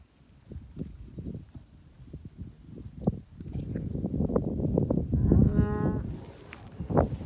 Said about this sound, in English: These are beautiful cows.